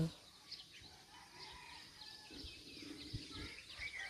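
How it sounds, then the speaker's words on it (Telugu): Birds chirp and call intermittently in the background of a quiet village morning around six, with faint scattered tweets and some low rustling noise. "birds sound"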